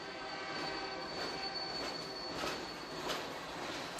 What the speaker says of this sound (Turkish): Yük treninin çıkardığı ses 15 metre mesafeden ölçüldüğünde 80 desibel.